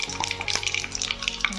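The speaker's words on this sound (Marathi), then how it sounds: "मोहरी तळतळली आणि एक तेजपत्ता पण मी इथे टाकत आहे" Mustard seeds and a bay leaf crackling in hot oil, a dense close sizzle peppered with quick pops and spits over a brief stretch, with no one speaking.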